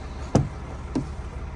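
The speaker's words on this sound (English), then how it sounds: "The door, it opens and closes properly." Truck cab door during a CDL outside inspection: a sharp thud as it swings, then a softer second knock about half a second later, close and otherwise quiet.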